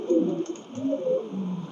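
Pakistani teddy pigeons cooing close by, several soft overlapping low coos rolling in a steady murmur without pause, alone with no voices over them.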